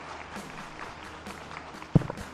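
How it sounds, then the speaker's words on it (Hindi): Faint, scattered applause from a small audience at a Ramayana quiz competition, soft and diffuse in the background with one sharper clap or knock near the end. "आपका उत्तर एकदम सही, जोरदार तालियां।"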